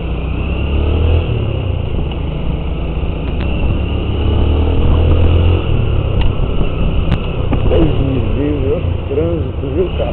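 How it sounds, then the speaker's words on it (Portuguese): Street traffic heard from close by, with engines idling and revving, a motorcycle or car passing, and a continuous low rumble. A person talks intermittently over it. "Trânsito, viu, cara?"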